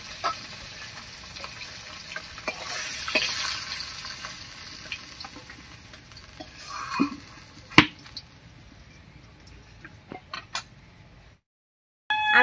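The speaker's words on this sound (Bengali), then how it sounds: "আর ফোড়ন দেবো গোটা গরম মশলা দিয়ে।" Whole garam masala goes into hot oil left over from frying fish, sizzling as a low, steady crackle with scattered sharp pops and clicks of utensils, and a brief silence near the end; no one speaks.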